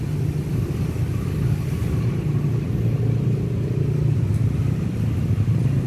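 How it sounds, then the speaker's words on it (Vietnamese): A Honda Shadow 150cc motorcycle idling close by with its original exhaust, giving a steady, low, throbbing rumble that stays even without revving for about six seconds. "em sẽ tới tiếng máy nổ cho anh em nghe"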